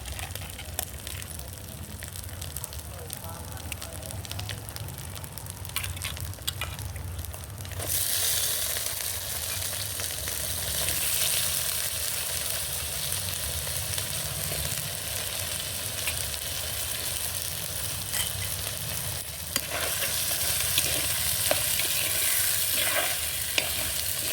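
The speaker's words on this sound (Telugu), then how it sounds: "మసాలా బాగా వేగాక వంకాయ ముక్కలు ఉన్నాయి కదా వంకాయ ముక్కలు వేయాలి" Brinjal pieces drop into hot masala frying in a pan, setting off a steady, close sizzle that swells louder partway through amid stirring and scraping sounds, with no talking.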